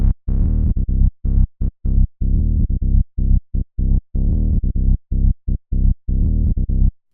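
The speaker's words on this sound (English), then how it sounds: "Let's try a bit of distortion, see if we can bring out some of those kind of harmonics." A distorted synth with boosted drive and resonance plays a choppy sequence of short buzzy notes, loud and gritty with rich harmonics, alone without speech.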